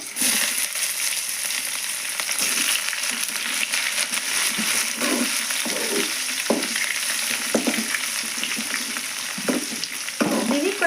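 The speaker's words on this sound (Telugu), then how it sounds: "నేను ఉల్లిగడ ముక్కలు వేస్తున్నాను" Onion pieces fry in hot tempering oil with mustard seeds, fenugreek and dried red chilli, a loud close sizzle broken by repeated stirring scrapes at an uneven rhythm throughout.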